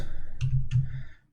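Two distinct clicks on a computer keyboard, close and crisp, spaced a fraction of a second apart over a low steady hum.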